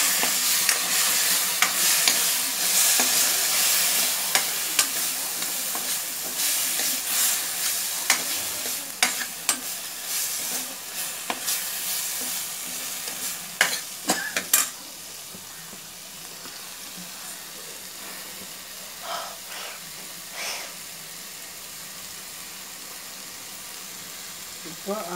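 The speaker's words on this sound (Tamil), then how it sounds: "வதக்குறோம்." Garlic and coriander sautéing in a pan for white kuruma, stirred with repeated scraping clicks and a soft sizzle through the first half, then quieter sporadic taps over a low background hum.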